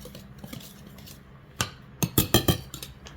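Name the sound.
whisking ingredients together in a bowl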